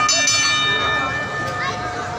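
A boxing match bell rings with a sustained metallic tone that slowly fades under an arena announcer's voice.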